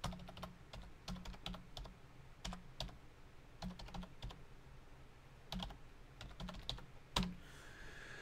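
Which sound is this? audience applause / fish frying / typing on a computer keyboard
typing on a computer keyboard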